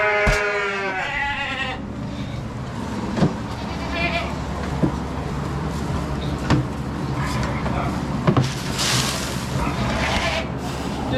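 Hungry sheep bleat loudly at the start, followed by scattered bleats and thumps amid a constant low mechanical hum in an enclosed barn shared with pigs.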